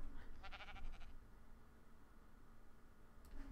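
Sheep bleating in the survival game ARK, a short wavering bleat near the start followed by a brief second call at the end, faint against a low background hum with no talk.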